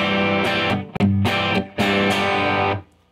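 Electric guitar played through a gain pedal backed off with the volume raised, giving a lightly overdriven tone: several strummed chords ring out loudly, separated by brief gaps, before the last one cuts off.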